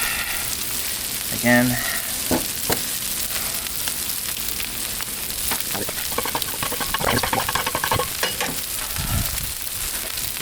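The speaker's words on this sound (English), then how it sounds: "we're going to put some bacon up on this end of the griddle" Bacon frying on a Blackstone griddle gives a steady broadband sizzle with crackling throughout, while a voice speaks briefly and utensils clatter now and then.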